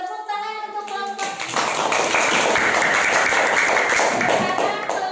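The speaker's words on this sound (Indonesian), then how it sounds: "Tepuk tangan untuk kelompok" A class of students applauds a group after its presentation, a burst of clapping that swells and holds steady at close range after a brief moment of talk.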